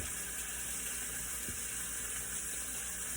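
French toast made from plain white bread with cinnamon sizzles steadily in a frying pan, a constant close hiss with no speech.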